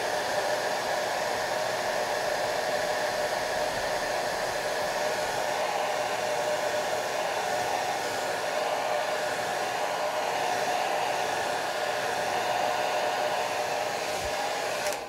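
A hair dryer blows steadily on a watercolor painting of a vase of flowers, drying the wet paper edges; a loud, continuous airy whir holds an even level for the whole stretch, alone without any voices.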